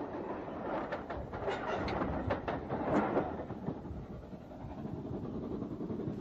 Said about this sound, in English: to see the Royal Train, headed by Schools Class 440-309-15 Brighton